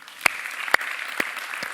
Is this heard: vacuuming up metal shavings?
no